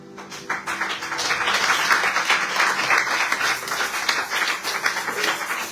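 A church congregation bursts into sustained applause, with dense, lively clapping that swells and holds for several seconds.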